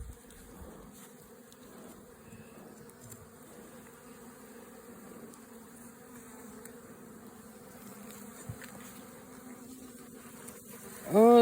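Honey bees hum and buzz around open beehives during an inspection, a continuous close droning swarm sound at moderate level with a few faint knocks in the background.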